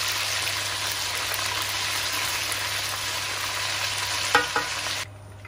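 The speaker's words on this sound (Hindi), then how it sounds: "ज़्यादा ब्राउन नहीं करना, बस हल्का हल्का फ्राई करना है। चम्मच चलाते रहें" Chicken pieces fry lightly in a pan while a spoon stirs them, giving a loud, continuous close sizzle, a couple of sharp scrapes near the end, then a sudden drop to quiet.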